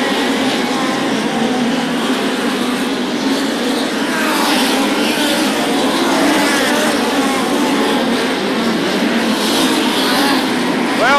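POWRi midget race cars roar around the Macon Speedway oval, a loud, continuous pack of engines with rising and falling pitch, under race commentary.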